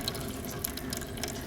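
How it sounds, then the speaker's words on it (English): Water runs from a tap left on, a steady close stream and splatter into a sink with faint clicks, continuous and alone with no talking. "Somebody just left the water running."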